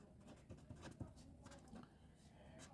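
A pen writes by hand on paper, giving soft, faint scratching strokes in short bursts, with a louder knock at the end and a voice briefly present.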